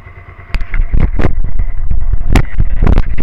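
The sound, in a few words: Suzuki SV650 motorcycle engine idling with choke down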